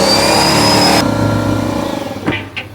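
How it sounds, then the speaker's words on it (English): Air compressor in an auto repair shop switched on to fill its empty tank, a loud steady motor roar with a high whine that drops after a second, then a continuous drone with a few clanks near the end. "I gotta bring the air compressor right here, turn it on"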